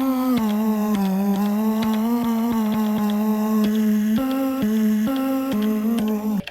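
Sliced vocal chops pitched down on an Elektron Octatrack for a boom bap beat, a steady sustained tone retriggered in short regular slices, loud and alone.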